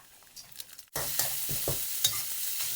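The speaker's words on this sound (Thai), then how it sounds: "ผัดรวนหมูสับจนสุกครับ" Minced pork with garlic sizzles loudly in hot lard as a spatula stir-fries it with repeated scraping strokes, following a brief quieter moment before the pork hits the pan.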